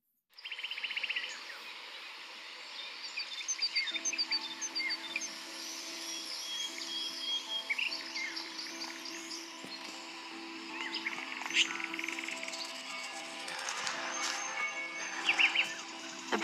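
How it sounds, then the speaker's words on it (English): Birds chirp and tweet in a morning outdoor scene of the video game Life is Strange, with bright repeated calls over a steady ambient backdrop that lasts throughout, and no talking. "birds are flocking around Samuel"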